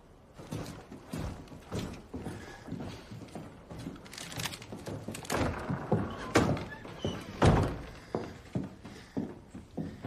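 Knocking on a door, a series of soft, irregular thumps and taps spread over about ten seconds, fairly close and alone, with no voices.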